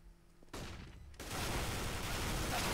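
Loud gunfire in Counter-Strike: Global Offensive on the Dust II map, erupting suddenly after a quiet moment and building into a dense, sustained burst of shots.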